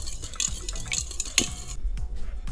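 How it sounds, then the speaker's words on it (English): A whisk clinks and scrapes rhythmically against a bowl while beating egg mixture for French toast, with repeated quick metallic taps close by and no talk. "You're gonna whisk this together until it's combined really good"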